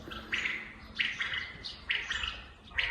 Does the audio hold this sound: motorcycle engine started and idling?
no